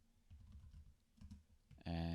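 Soft, rapid key clicks come from typing on an offline laptop's keyboard, quiet and close. A louder steady tone cuts in at the very end.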